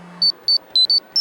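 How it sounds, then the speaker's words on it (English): A phone ringtone plays a quick series of short, high electronic beeps in an even rhythm, clear and close in an otherwise quiet room. "You two have the same ringtone?"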